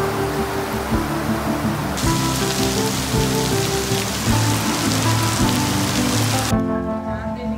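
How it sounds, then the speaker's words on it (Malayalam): Heavy tropical rain pours down steadily in Pattaya, Thailand, near a teak-built market, a loud dense roar of rainfall with some background music and a rise in intensity midway. "ഭയങ്കര മഴയാണ് നമ്മുടെ നാട്ടിലില്ലാത്ത രീതിയിലുള്ള മഴയാണ് ഇവിടെ പെയ്തുകൊണ്ടിരിക്കുന്നത്"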